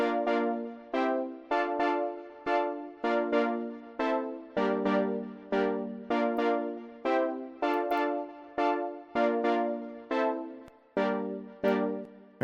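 First synth layer of a soca beat playing alone, a bright harmonic tone in short repeated stabs with a steady bouncy rhythm, close and clear with no voices.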